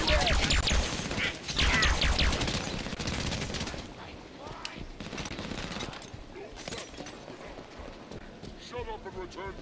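Gunfire rattles through a Halo video game battle, dense rapid bursts loud at first and then thinning into scattered shots, with voices talking throughout.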